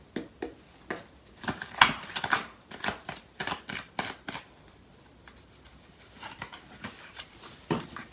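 Tarot cards shuffled by hand, a steady run of crisp riffling and slapping bursts that thins toward the end, close and fairly loud.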